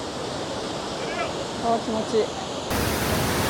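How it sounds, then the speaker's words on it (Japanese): Powerful roar of Iguazu Falls from the Brazilian side, a dense broadband rush of heavy water filling the scene throughout, with a brief spoken remark over it midway and the roar growing louder near the end. "ちょうど反対側、滝が流れていく。 すごい勢いですね。"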